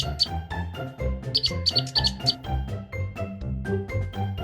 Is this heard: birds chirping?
yes